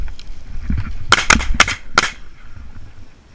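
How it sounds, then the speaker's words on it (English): Four sharp shotgun reports fired in quick succession while hunting chukar outdoors, moderately distant and crisp, with little else around them. "There are 3 shots."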